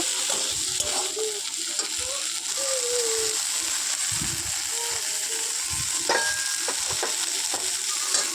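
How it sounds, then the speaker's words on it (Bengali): Large-cut okra pieces fry in a pan with a steady, close sizzle, broken by repeated scraping and stirring clatter as a voice speaks now and then. "তো সেটাকে আমি ভালো করে একটু ভেজে নেব।"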